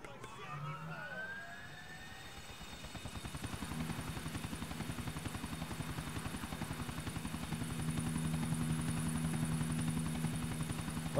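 Helicopter in the video game GTA IV, its rotor chopping in a steady, rapid pulse that grows louder and fuller over several seconds, with a low engine drone beneath.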